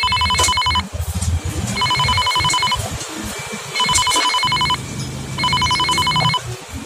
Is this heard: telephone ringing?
yes